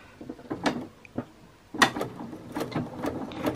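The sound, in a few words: sewing machine backstitching over thread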